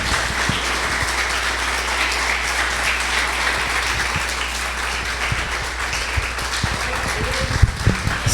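A church congregation at a Christmas morning service applauds steadily, a dense, loud wash of clapping that holds for several seconds with a few sharper claps near the end.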